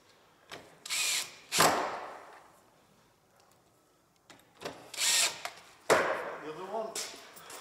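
A power drill drives screws into a narrowboat top box in several short whirring bursts, close and fairly loud, separated by quiet pauses and faint handling noise.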